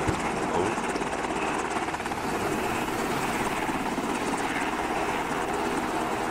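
A helicopter in a tactical military video game flies steadily overhead, its rotor thrum loud and continuous throughout with no break, a dense unbroken drone filling the whole stretch.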